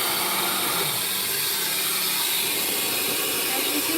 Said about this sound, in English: Some cats can handle this dryer.